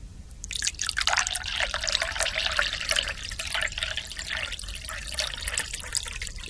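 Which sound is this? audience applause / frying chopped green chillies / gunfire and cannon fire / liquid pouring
liquid pouring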